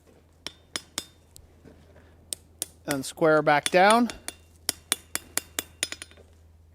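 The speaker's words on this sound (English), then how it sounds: "Again, this lightweight hammer is just kind of pushing things where we want it" A lightweight hammer forges a small metal latch on an anvil, with about a dozen sharp, ringing taps spaced irregularly. Someone speaks briefly in the middle, between the strikes.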